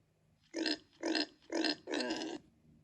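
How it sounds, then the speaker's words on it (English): A pig gives four close, distinct grunts in quick succession, the last one longer and rougher, against a quiet background. "Pig."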